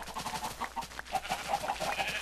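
Minecraft chickens clucking and squawking in short bursts, a busy cluster of calls close by with no talking.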